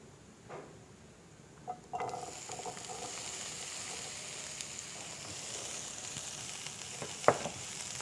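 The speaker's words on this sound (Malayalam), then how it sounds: "നമുക്കിതിലേക്ക് ക്യാപ്സിക്കം ഒന്ന് സോട്ട് ചെയ്ത് മാറ്റാം" Capsicum sautéing in about a tablespoon of oil in a hot pan: a steady frying sizzle builds after the first couple of seconds and holds, with a few soft stirring clinks and one sharper knock near the end.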